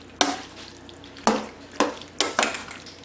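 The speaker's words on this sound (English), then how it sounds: "Alright, so I have the ground beef here and I'm going to mix the sauce in with that." Ground beef being stirred together with tomato sauce for a keto lasagna, a spoon scraping through the thick mixture in a pan in four or five separate wet strokes.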